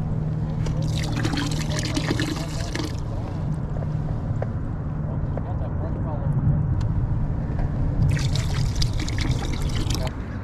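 Water trickles and pours into a bucket holding a freshly caught big carp outdoors, a steady close splashing flow with bursts of brighter spatter at the start and end, and a voice talking over it.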